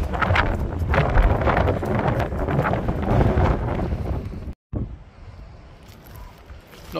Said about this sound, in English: Not raining, very windy though.